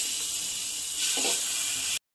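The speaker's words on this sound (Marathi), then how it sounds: "सर्वात आधी आपण ह्याच्यात बटर घालून देऊयात." Butter melts in a pan for garlic noodles, giving a steady, bright hiss with a brief louder swell of sizzling midway before stopping abruptly.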